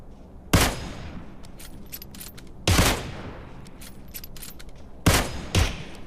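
Gunfire in the mobile battle-royale game PUBG Mobile comes as three loud, sharp bursts spaced a couple of seconds apart, with fainter clicks and shots between them.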